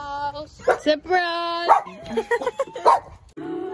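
A dog gives short yips and whimpering barks close by, mixed in with excited voices talking around it.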